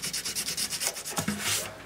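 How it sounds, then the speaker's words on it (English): Fine sanding on the finish of a Martin D-28 acoustic guitar: quick, even back-and-forth rubbing strokes, about seven per second, close and clear, easing into a longer smoother pass at the end. "That's about all I feel comfortable sanding."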